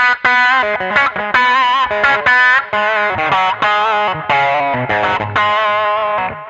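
Gritty, distorted electric guitar notes plucked quickly with bare fingers rather than a pick, in a bluesy run of snapping attacks and bent pitches, loud and close.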